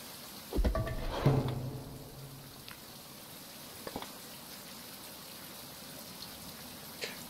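Rain falls in the survival video game Survival: Fountain of Youth as a soft, continuous hiss, broken early by a couple of louder thumps and a few faint knocks.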